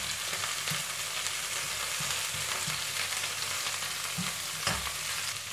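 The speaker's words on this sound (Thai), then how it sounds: "เรามาทำกุ้งของเราให้สุกก่อนนะคะแล้วก็ใส่กุ้งลงไปค่ะ" A handful of shrimp fries in a little hot oil in a pan for glass-noodle pad thai. The sizzle is steady and close, with soft low knocks as the shrimp are moved.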